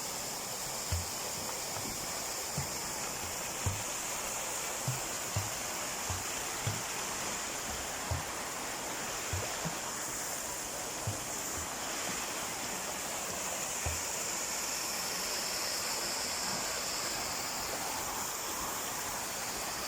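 A waterfall where people are swimming on a summer outing gives a steady, broad rushing roar throughout, with soft low thumps recurring under the water noise.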